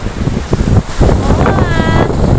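Strong gusting monsoon wind buffets the microphone in a steady roar at Bang Saen beach, Thailand, with a faint rush of surf and a brief tonal whistle partway through.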